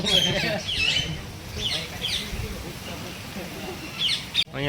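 Java sparrows chirp and squawk inside a zoo aviary at Rajkot's Pradyuman Park zoo, with bright chirps in scattered bursts beneath someone talking loudly over them throughout.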